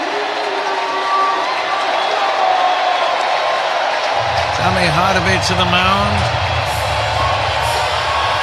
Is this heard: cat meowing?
no